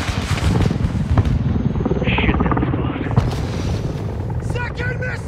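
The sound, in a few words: missile explosion near helicopter, Call of Duty Modern Warfare 2 video game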